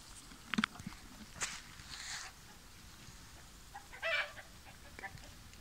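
Faint crowing and clucking of a young rooster in the distance on a village farm, a few short calls scattered over a quiet outdoor background.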